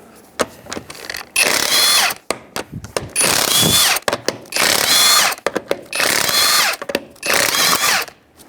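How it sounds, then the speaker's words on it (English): An impact wrench spins a 19mm socket to remove the wheel lug nuts of a 2003-2011 Honda Element in a garage, giving loud, close bursts of whirring and rattling, about five of them, with short gaps in between. "With a 19mm socket, we're going to take off our wheel."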